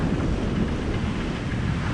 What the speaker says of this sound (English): So we probably got somewhere around 15 knots of wind